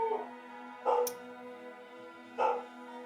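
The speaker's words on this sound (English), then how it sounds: "Dog. Dog." A dog barks twice, about a second and a half apart, each a short sharp bark standing out over a steady low tonal hum.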